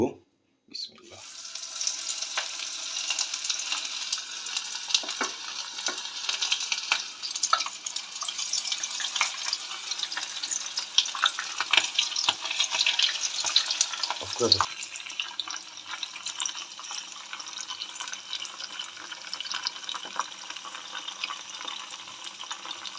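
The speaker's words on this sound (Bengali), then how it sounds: "তেল গরম হওয়ার পরে চিংড়ি মাছগুলো আমরা এখন দিয়ে দিব" Prawns drop into hot oil with a sharp crackle, then fry in a dense, continuous sizzle that eases slightly in the second half.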